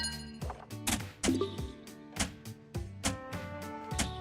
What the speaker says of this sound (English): this one's got that perfect soft arcade clink to it.